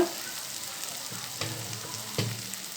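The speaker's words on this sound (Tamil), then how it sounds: "இப்போ தக்காளி போட்டு நல்லா வதங்கி வருது" Tomatoes sizzle and crackle steadily in a hot pan for pasta masala, with a couple of brief stirring scrapes breaking the constant frying hiss.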